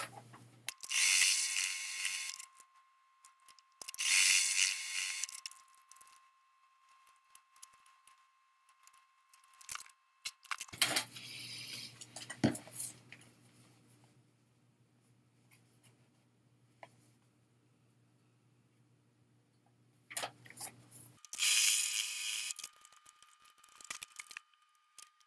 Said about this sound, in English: Go ahead and sew these two pieces on.